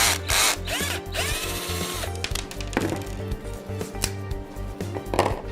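Power drill backing a screw out of the lid of a Zebra F16AC coalescer for an air compressor, sounding as short close whirring bursts with ratcheting clicks and pauses between them, with no voices.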